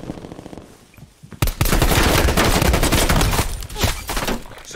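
Pistol fire in Call of Duty Cold War comes as a dense, loud volley of sharp shots crowded together after a brief quiet opening, with a short dip and then renewed firing near the end.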